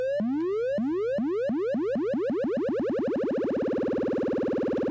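Frequency-modulated synth tone with a sawtooth LFO: repeated rising boing-like sweeps that speed up steadily until they blur into a continuous warbling buzz, loud and alone.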